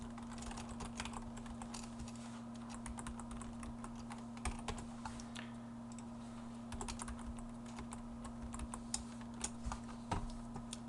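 Steady keyboard typing as a C printf statement is entered, with irregular crisp keystrokes over a constant electrical hum and background noise, moderately close, no talk.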